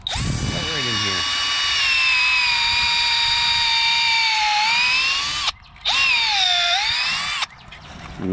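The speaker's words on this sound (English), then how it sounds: "And we drill our hole." A power drill bores a hole into a front-yard maple tree for tapping, giving a loud, steady high whine that briefly stops twice near the end before starting up again.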